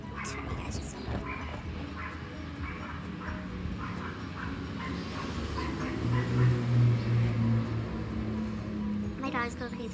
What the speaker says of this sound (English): My dogs go crazy over buses.